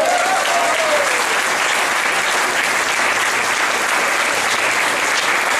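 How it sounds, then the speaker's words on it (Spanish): A large audience claps in dense, sustained applause at an Israel anniversary celebration in Mexico, an even, loud wash of clapping lasting throughout with no break. "así que otro aplauso para él"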